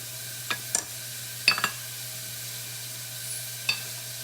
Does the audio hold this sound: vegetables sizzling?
yes